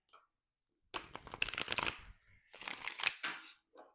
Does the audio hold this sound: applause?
no